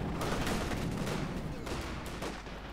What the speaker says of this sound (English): Lots of shooting, in fact, going on there.